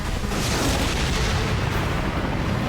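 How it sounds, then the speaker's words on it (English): Anti-tank missiles fired from a helicopter strike enemy positions, heard as a dense, sustained roar of overlapping heavy blasts that stays loud and even throughout. "The helo unleashed 6 anti-tank missiles for fire saturation"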